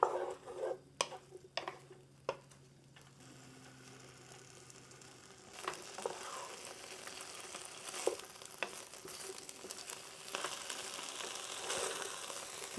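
Ground beef sautes in a pan over medium-high heat for Persian okra stew, a steady soft sizzle with scattered clicks and scraping stirs, louder and denser in the second half.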